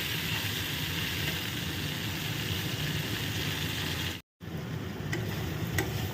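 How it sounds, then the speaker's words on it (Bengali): Potato pieces fry in oil in a pan as the base for a Bengali fish curry, a steady dense sizzle that runs without a break except for one short silent gap near the end. "তো আলুটা দিয়ে দিয়েছি ভাজতে, তার মধ্যে দিয়ে দেবো আদা পেঁয়াজ রসুন হলুদ নুন লঙ্কা"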